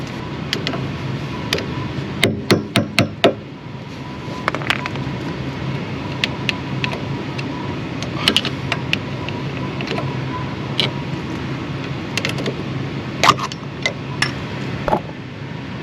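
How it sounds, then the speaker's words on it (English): A screwdriver pries and knocks at a wheel hub centre cover on a Mk6 Fiesta ST150, producing a quick cluster of sharp metallic taps followed by scattered clinks and scrapes over a quiet background. "So now we just need to get a little screwdriver in here, pop this cover off"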